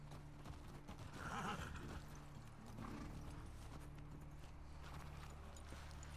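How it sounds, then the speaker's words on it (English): Horses clip-clop and one whinnies in the video game The Last of Us Part II, the hoofbeats steady under a soft, continuous background hum. "Poor horses, they must be freezing."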